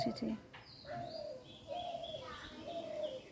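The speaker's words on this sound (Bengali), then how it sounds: "শুনতে পাচ্ছেন কি পাখির ডাক, পাখির আওয়াজ, পাখির কলতান?" Birds call and a pigeon coos near a garden of potted plants, with repeated cooing phrases and scattered higher chirps under a person speaking.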